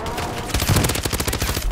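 Rapid gunshots in a battle royale video game, loud close bursts of automatic fire rattling in quick succession with game sounds behind.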